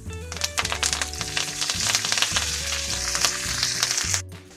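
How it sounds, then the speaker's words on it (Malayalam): Curry leaves hit hot oil for papaya pickle, setting off a loud, dense crackling sizzle with sharp pops that carries on steadily, then cuts off near the end. "മൂത്ത് കഴിഞ്ഞു ഇനി കറിവേപ്പില ഇടാം"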